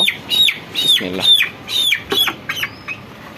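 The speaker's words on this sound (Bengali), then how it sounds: "এক হাতে আসলে মুরগি ধরা কষ্ট" A broiler chicken squawks and clucks in repeated sharp, loud bursts as it is caught by hand, flustered and agitated, close by with brief pauses between cries.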